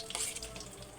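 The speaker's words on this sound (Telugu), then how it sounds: "కొద్దిగా లైట్ బ్రౌన్ కలర్ వచ్చిన దాకా వేయించుకోవాలి" Fresh coconut, raisins, almonds and pistachios frying in a pan for semiya payasam, a faint soft sizzle with light stirring, brief and quiet.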